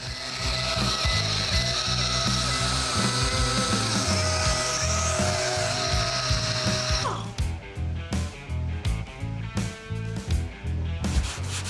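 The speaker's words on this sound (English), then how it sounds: "To make this go a little bit quicker, we'll be using both a DA and some red scuff pads." A DA sander works over the body of a Ford Crown Victoria police car during prep, with red scuff pads also in use. It makes a continuous whirring, rubbing drone that shifts partway through into rougher, choppier scuffing.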